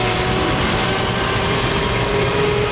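An old GM truck with a straight-stick manual transmission, running in first gear with its carburetor freshly fixed, gives off a steady, loud engine drone that holds unbroken throughout.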